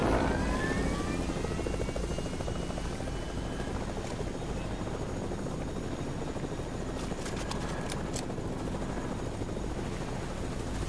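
A helicopter in the video game Fortnite, its rotor thumping and whining steadily throughout, loud and close, with faint brief tones near the end and no talking.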